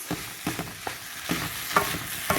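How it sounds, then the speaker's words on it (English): Nasi goreng, Indonesian fried rice, being stirred in a pan, with a steady run of scraping strokes over a soft sizzle, close and fairly loud, no voices. "And we're going to get that all stirred in there."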